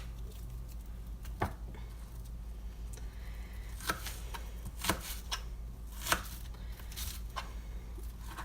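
Knife chopping a yellow onion on a cutting board while preparing slow cooker chicken fajitas, a few sharp, irregular thuds spread over several seconds against a faint steady background hum.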